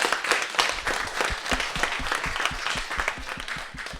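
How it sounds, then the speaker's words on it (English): Audience clapping loudly in a dense, sustained burst to vote for a costume contest entrant, many hands beating fast and close, steady throughout. "clap as loud as you can for him"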